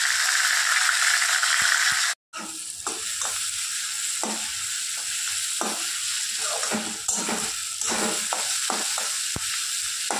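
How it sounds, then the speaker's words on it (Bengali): Hilsa fish frying in hot oil with onion and garlic on a home stove: a steady bright sizzle broken by a brief silence, then repeated utensil scrapes and clicks over the continuing hiss. "এই যে মাছ দিয়ে দিয়েছি তেলের উপরে, এখন একটু জোর কমিয়ে দিয়ে ভাজবো।"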